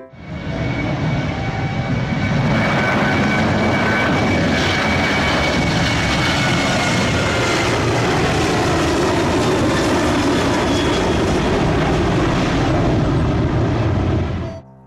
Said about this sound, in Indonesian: Wow, lihat teman-teman, di sini ada pesawat terbang.